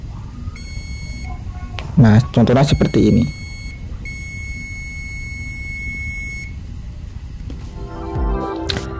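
A Zoyi ZT-QB9 clamp meter's continuity buzzer gives a steady, high electronic tone that sounds for several seconds, breaks briefly, and resumes. Someone speaks just before it, and a short rattling noise comes near the end.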